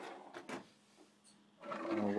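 Sink drawers in a 1972 Rambler camper are pulled open and pushed shut, giving a few short, close wooden knocks and slides followed by a louder rattling shove, with no voices.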